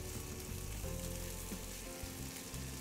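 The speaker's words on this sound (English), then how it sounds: "while our turkey bacon is cooking" Turkey bacon frying in a pan on a stovetop, a quiet, continuous sizzle and crackle holding even throughout with no voices.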